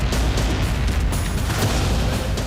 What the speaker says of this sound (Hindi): इसके बाद एक जोरदार धमाका होता है और टैंक तबाह हो जाता है।